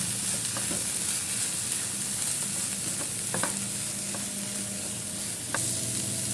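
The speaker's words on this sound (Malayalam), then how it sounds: "നമുക്കിനി എല്ലാം കൂടി ഒന്ന് മിക്സ് ചെയ്തെടുക്കാം" Broccoli and egg thoran stirred in a hot pan: constant loud sizzling frying with intermittent scraping strokes and clicks of the spatula against the pan, close up and uninterrupted by speech.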